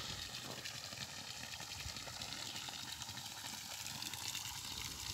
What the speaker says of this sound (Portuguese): Já tô ponhando água nele, ó.